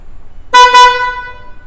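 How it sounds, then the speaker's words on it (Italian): Two quick car-horn blasts from a new Mini, sounded remotely, come through loud and close against a quiet background before they fade away. "Posso anche richiedere il clacson"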